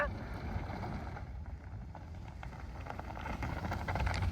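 Car spinning around on snow in the USA, a steady rumbling roar with wind buffeting the microphone, building louder toward the end, no talking.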